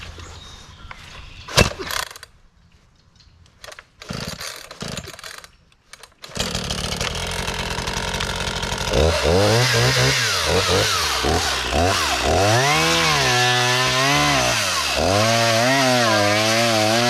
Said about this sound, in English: So let's get the saw started, and I'll show you first here with the log peeler on the cedar.